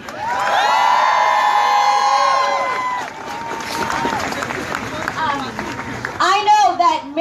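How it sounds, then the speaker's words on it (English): A crowd at a protest rally in Nashville cheers and whoops loudly, voices rising and sustained, then settles into a mix of applause and chatter before a few shouts break out at the end. "One more round of applause,"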